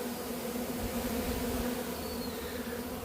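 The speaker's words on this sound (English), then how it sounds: "I've had this tub full of bees, and see how they're all fanning their wings?" Swarm of Italian honeybees shaken into a tub, fanning their wings in a steady, dense close-up hum that holds at an even level without voices.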